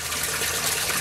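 Water rushes and gushes through a bell siphon in a backyard aquaponic IBC grow bed, a steady close hiss of draining flow with no talk.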